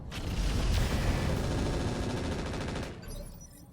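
Rapid weapons fire in the RogueTech BattleTech mod, a dense sustained barrage of heavy bursts filling nearly four seconds at loud, steady intensity before trailing off with a mechanical clatter.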